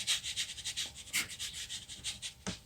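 Light-coloured paint is scraped along a canvas to build a rough, rocky texture in a landscape painting. It makes a quiet, rhythmic series of raspy rubbing strokes that repeat steadily, with one firmer scrape at the end.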